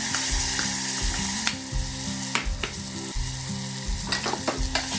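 Tomatoes sautéing in a hot pan, a steady loud sizzle with a spatula stirring and scraping at intervals, no voices.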